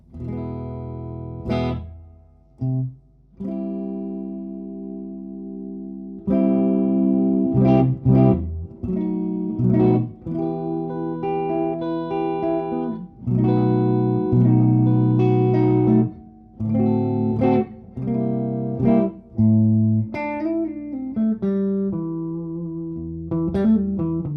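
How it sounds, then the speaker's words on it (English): An electric guitar plays through a vintage Fender Brownface amp with the tremolo pedal off, a clean, warm tone of sustained chords and single notes in phrases separated by brief pauses, loud and alone. "So let's just start by turning it off, so you can see what the amp sounds like."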